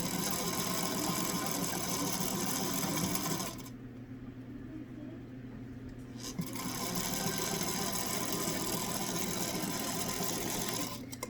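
A sewing machine stitches across the fabric of a homemade face mask, a steady rapid mechanical whirring hum close by that eases briefly in the middle before picking back up at full speed.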